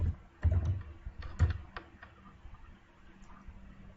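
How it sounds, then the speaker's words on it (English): Several quick clicks of computer keyboard typing, in two short bursts followed by fainter scattered taps, recorded close with no talk. "You can type the options"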